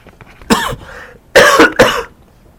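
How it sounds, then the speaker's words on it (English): Three sharp, close coughs: a single hack followed, after a short pause, by two rough coughs in quick succession. "Coughing again."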